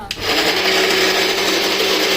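Electric mixer grinder blending idli batter at home, starting with a brief click then settling into a loud, continuous whining motor hum that runs steadily to the end.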